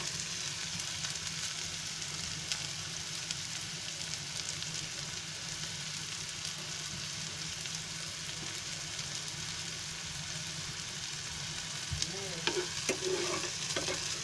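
Tomato sizzles steadily in a hot pan for egg bhurji while a spatula stirs through it, a continuous moderate frying hiss with occasional scraping clicks near the end.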